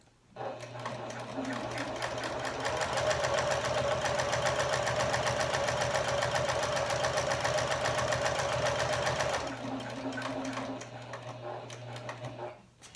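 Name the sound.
Janome HD9 sewing machine sewing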